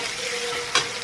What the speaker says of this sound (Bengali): ঝাল পেঁয়াজ ভেজে নিচ্ছি